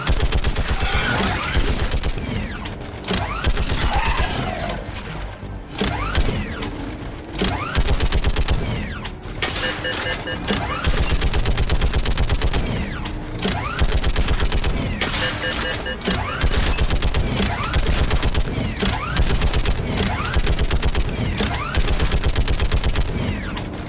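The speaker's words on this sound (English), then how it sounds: "I don't really like using these guns." A mounted gun turret in Mass Effect 3 fires long, dense bursts of rapid automatic shots, loud and continuous with brief pauses between volleys and mechanical clatter underneath.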